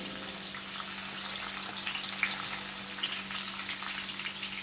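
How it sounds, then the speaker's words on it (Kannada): Curry leaves and chopped onion fry together in a pan for Udupi-style bhuthai pulimunchi, giving a steady, even sizzle and crackle that runs unbroken from start to finish with no voices. "ನಾನು ಈಗ ಕರಿಬೇವು ಮತ್ತು ಈರುಳ್ಳಿ ಒಟ್ಟಿಗೆ ಹಾಕ್ತೀನಿ"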